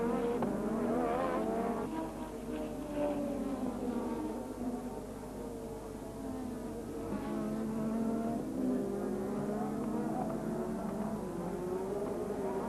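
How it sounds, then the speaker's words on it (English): 1986 Formula 1 race cars racing during a Grand Prix: a steady, fairly faint roar of high-revving engines whose pitch sweeps up and down as cars pass and change gear, continuous throughout. "Piquet raced past Rosberg back into third place"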